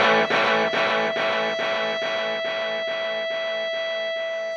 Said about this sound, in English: However, when we turn on the echo effect,